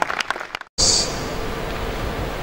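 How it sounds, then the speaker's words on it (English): Applause at the 2022 annual assembly of registered quantity surveyors starts abruptly after a short break and continues as a steady, dense wash of clapping from a large seated crowd, loud and sustained without speech over it. "Please keep clapping."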